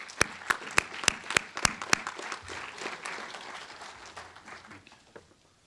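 An audience breaks into applause to welcome a police captain at a talk on race and policing, starting with several loud, distinct claps that settle into a steady, fading patter.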